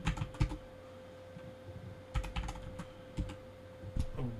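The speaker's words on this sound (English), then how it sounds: "the typing you're going to hear a lot louder" Bursts of computer keyboard typing, clattering in quick irregular clusters with short pauses between, close and fairly loud over a steady faint hum.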